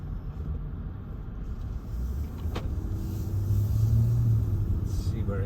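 A car pulls out of the Cromford Mills car park in Derbyshire, a steady low engine rumble that swells slightly as it moves off, heard from inside with brief voices over it.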